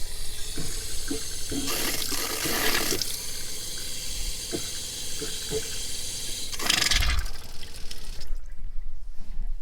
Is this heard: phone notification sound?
no